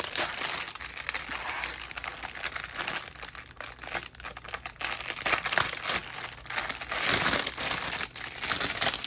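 Someone tears open a crinkly plastic package wrapper, giving continuous close crackling and crumpling with sharper rips, running steadily for several seconds with no talk.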